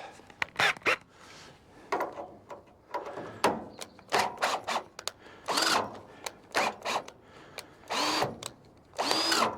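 A power drill whirs in short repeated bursts on a broken firewood tipper truck repair, close and fairly loud, with brief pauses between pulls of the trigger.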